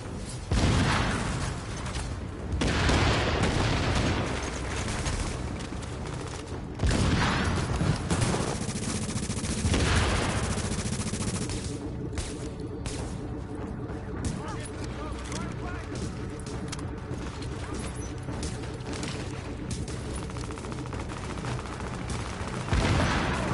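Sustained gunfire in a combat firefight in The Division, dense overlapping shots and bursts continuing throughout with occasional booms, mixed with radio-style game voices and player chatter.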